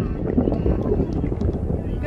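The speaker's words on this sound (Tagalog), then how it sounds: "Grabe ang hangin" Strong wind blows across an open-air kayaking spot on the Hatta Dam reservoir, a steady low rushing roar that buffets the microphone throughout, with people talking over it.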